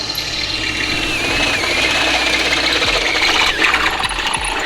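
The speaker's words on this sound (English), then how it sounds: "So now we're drilling through the second skin so we could use that as a pilot hole" A continuous grinding, rasping drill bores steadily through the second skin of a Nissan S13 car body panel for several seconds, loud and close with no pauses.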